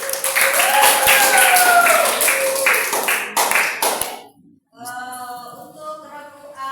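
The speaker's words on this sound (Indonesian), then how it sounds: "Oke, tepuk tangan untuk semuanya" A group at a team quiz contest applauds together in loud, brisk clapping with some raised voices for about four seconds, then the clapping cuts off and a person starts talking.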